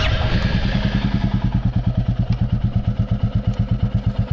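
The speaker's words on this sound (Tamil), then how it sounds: "நம்ம வந்து வண்டி ஸ்டார்ட் பண்ணி பார்க்கலாம்" A Royal Enfield Classic 350 single-cylinder motorcycle engine starts and settles into a loud, close, steady thumping idle with an even, regular beat.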